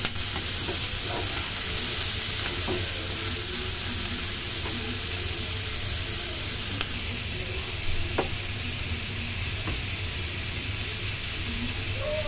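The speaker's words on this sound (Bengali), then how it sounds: "চিংড়ি মাছগুলোকে দিয়ে ভালোভাবে নাড়াচাড়া করে ভেজে নিতে হবে" Shrimp stirred and fried in hot oil for an okra stir-fry, giving a steady, close sizzle that runs throughout, with faint scrapes and clicks from stirring.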